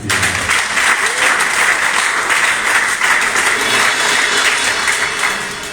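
A church congregation applauds and cheers for Jesus at a pastor's call, producing steady, loud, close clapping that fills the space for several seconds before tapering off at the end.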